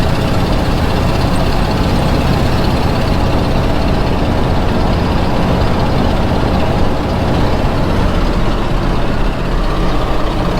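A 1970 Ford wrecker truck drives along the road, its engine giving a steady, loud, close rumble that runs unbroken from start to finish, with no voices.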